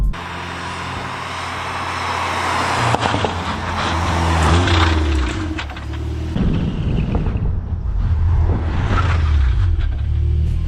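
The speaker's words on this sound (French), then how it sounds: "Là ce qu'on va faire c'est qu'on va faire le test du freinage." Volkswagen Golf 7R and 8R in a braking test from 50 km/h, with a steady loud engine and road roar that swells and eases over about ten seconds and no talking.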